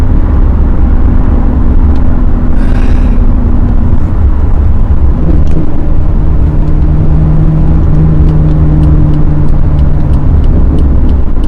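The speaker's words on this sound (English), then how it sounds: "That third gear pop and crackle always just, there's nothing like it." A Corvette engine drones steadily at close range in third gear, with faint sharp crackles and pops scattered through the exhaust noise.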